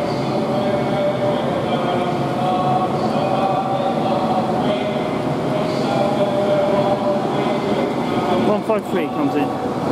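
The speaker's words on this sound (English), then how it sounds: "This is my train just coming in now." Avanti West Coast Class 390 train pulling into Preston station, a steady loud rumble of rolling stock with rising brake squeals near the end, a voice briefly audible over it.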